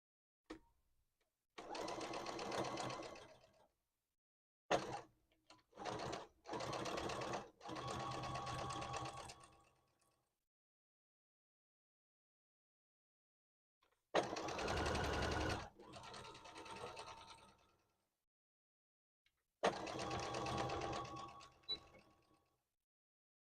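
A sewing machine stitching plush toys runs in four loud bursts of rapid whirring with short stops between them, then a long pause before the last two runs, with no talk.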